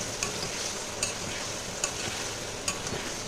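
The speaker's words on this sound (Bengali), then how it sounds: "এবার এটা ভালো করে নাড়িয়ে দেবে।" A spoon stirs spiced masala in a hot pan, giving a steady sizzle with four sharp scrapes against the metal at roughly even intervals, close and clear with no voices.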